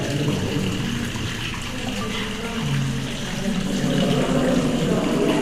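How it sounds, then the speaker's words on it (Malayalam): Holy water runs from a spring at Garni, Armenia, a steady close rush of flowing water with faint crowd murmur in the background. "അവിടെ നിന്നാണ് ഈ ഹോളി വാട്ടർ വരുന്നത്."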